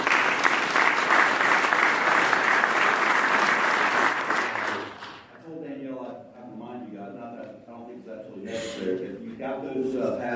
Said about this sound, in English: right now I think we'll applaud this guy for that leadership